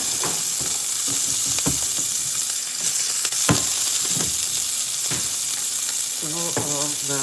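Filet mignon steak sears in a hot pan with a steady, close sizzle and crackle, broken by occasional sharp pops and scraping clinks of a utensil against the pan.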